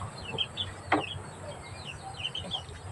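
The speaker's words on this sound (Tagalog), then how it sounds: "ang daming manok" Chickens cluck and call in short bursts around a farmyard, with one sharper squawk standing out against a steady low background hum.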